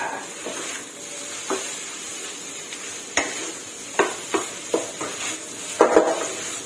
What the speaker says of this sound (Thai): หลังจากนั้นผัดข้าวให้เข้ากันค่ะ